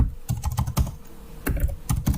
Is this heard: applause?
no